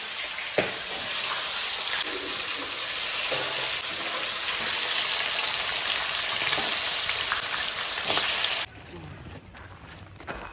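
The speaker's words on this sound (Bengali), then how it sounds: "এটা মাছের ঝোল হবে, তার জন্য মাছটা ভেজে নিই।" Pieces of fish, including the head of a large catla, fry in hot oil in a pan with a steady, loud close sizzle that continues before cutting out abruptly near the end.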